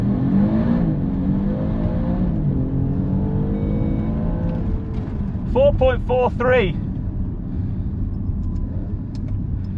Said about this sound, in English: I'm just going to do a hard acceleration and see what the 0 to 60 time is going to be